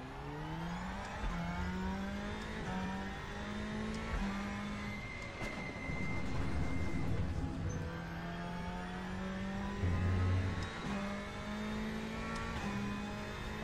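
In the RaceRoom sim racing game, a race car engine pulls gently out of the pits, its pitch climbing and falling through steady gear changes, sustained and fairly quiet.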